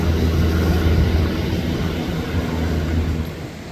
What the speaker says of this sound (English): Airplane flying over here.